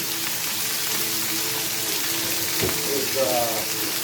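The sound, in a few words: meat searing in a pot for pot roast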